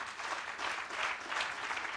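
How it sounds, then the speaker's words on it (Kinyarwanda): An audience claps for young winners of the Art Rwanda arts competition, a dense, steady patter of many hands heard from inside the hall at a moderate level, with no talk. "Mumfashe tubaha amashyi."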